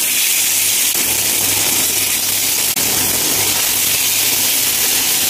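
Marinated chicken pieces sizzle and crackle in a pan of hot oil over a medium flame, cooked for chicken mandi. A steady, close, dense hiss continues without a break.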